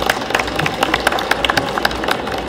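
Audience clapping at a cat show after the best Siamese is announced, a dense uneven patter of individual claps with sharp peaks, moderately loud and close throughout.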